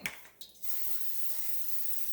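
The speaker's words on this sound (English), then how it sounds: "I'll take some of this spray olive oil from Laurel" Olive oil cooking spray hisses from a can, a couple of short spritzes followed by a longer steady spray close to the microphone, with no talking.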